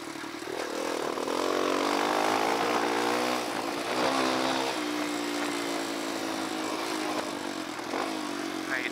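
A Kawasaki KLX dirt bike engine drones steadily and close for the full stretch while riding downhill through Red Rock Canyon, with harmonic revving that rises and falls under load.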